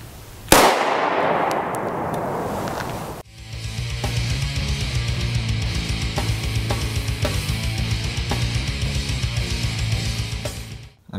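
A 5.7x28mm round fired at a mild steel plate: a sharp, loud gunshot crack that decays, followed by a long steady hum of outdoor noise, with no talking.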